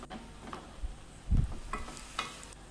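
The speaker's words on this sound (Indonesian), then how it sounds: "Aduk-aduk sampai tercampur rata dan dagingnya mateng." A spoon scrapes and clacks as it stirs cinnamon-spiced ground meat for Persian adas polo in a frying pan, under a soft, steady sizzle, with one heavier knock partway through and no talk.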